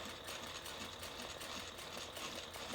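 A sewing machine top stitching a handbag runs with a faint, steady mechanical whir and rapid needle patter, continuous and even.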